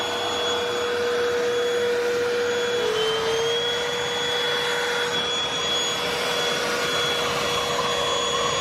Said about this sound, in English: I have hoovered until I wore the battery down on the hoover again